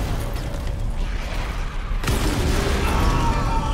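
Cannon fire in the Dead Space video game, a sudden sharp boom midway through a dense mechanical rumble, followed by a sustained roaring wash of noise.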